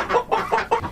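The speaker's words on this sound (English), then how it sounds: "We put all our chickens in their utility room" Chickens sheltered indoors in a utility room from the wind cluck close by in four quick, evenly spaced bursts.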